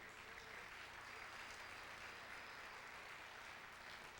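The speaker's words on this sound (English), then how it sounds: "we can give him a round of applause" Steady, dense applause from an audience at a school band spring concert, sustained evenly throughout and heard from a distance without interruption.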